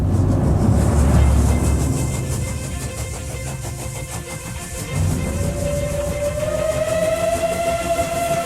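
Steam train running with loud, rhythmic chuffing and rumbling wheels, close and steady, joined partway through by a long, rising steam whistle that holds over the churning engine.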